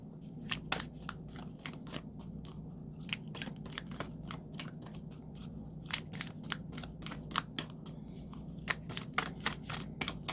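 A brand-new, stiff deck of tarot cards being shuffled, giving rapid bursts of crisp snapping riffles over a low room hum, close and fairly quiet, with no voice.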